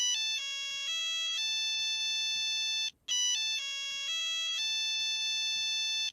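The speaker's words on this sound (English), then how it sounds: "We have the Nokia sound." Classic Nokia mobile phone startup melody: a bright electronic chime of stepped tones that plays through once and then repeats after a short break, clear and up close.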